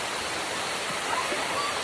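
The steady, dense roar of Miji Falls fills the air as a constant broadband rush of falling water, loud and unbroken with no pauses.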